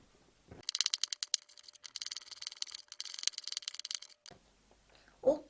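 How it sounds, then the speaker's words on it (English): A knife slicing red pepper thinly on a cutting board during Korean cold noodle salad prep, a fast run of crisp, even chops that pause briefly and resume, fairly close, with a brief voice at the end. "So we need to chop the red pepper first."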